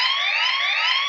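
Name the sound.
siren message notification ringtone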